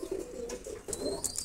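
A Teddy pigeon, one of a master pair, coos softly and close in a few short rounded phrases, with faint chirps from other birds in the background.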